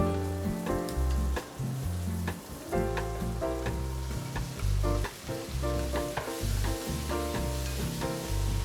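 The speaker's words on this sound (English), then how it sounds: "Now we fry the red onions and the tomatoes in the butter and juices from the meat." Red onions and tomatoes frying in butter and meat juices, a busy crackling sizzle with steady spitting pops and a rhythmic low clatter throughout, close and fairly loud.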